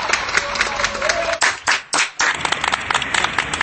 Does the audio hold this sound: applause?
yes